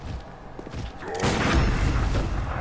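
Gunfire and heavy booms from Bloodborne gameplay in Central Yharnam, a blast landing partway through and carrying into a loud, dense rumble of combat noise.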